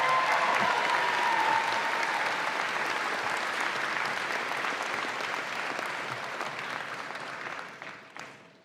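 A commencement audience gives a gospel choir another round of applause, broad continuous clapping that holds steady and then tapers away near the end.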